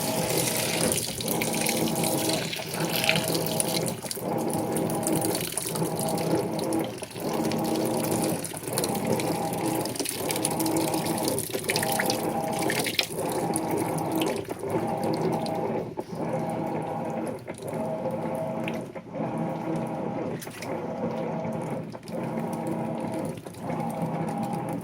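A Whirlpool Cabrio WTW7000 top-load washing machine fills with water during a normal wash cycle. Rushing water runs steadily and fairly loud, with a mechanical ticking pulse repeating every second or so underneath.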